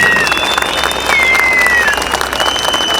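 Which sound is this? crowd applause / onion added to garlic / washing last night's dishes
crowd applause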